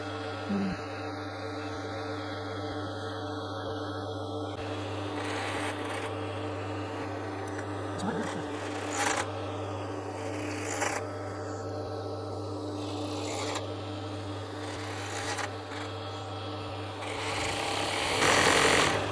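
Overlocker sewing machine stitching a fabric seam on a scatter cushion cover, a steady motor hum and whir that runs continuously with small bumps and speed changes, close and fairly loud.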